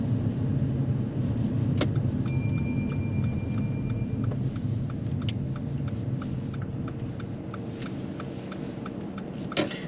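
A car pulling in and parking during a driving lesson: steady low engine hum and road noise throughout, with the soft rhythmic tick of the indicator and a brief chime early on.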